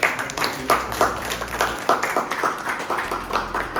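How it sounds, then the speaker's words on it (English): A few people clapping in a brief, uneven burst of applause, moderately close, with a faint voice underneath. "So huge round of applause for Puneet."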